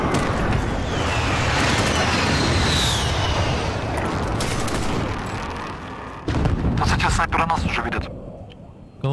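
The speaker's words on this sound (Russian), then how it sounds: "Внимание, союзник выполняет авиаудар." Allied airstrike in Call of Duty: Warzone: heavy explosions and rolling gunfire rumble loudly for several seconds, ease off, then flare up again, while players talk over the din.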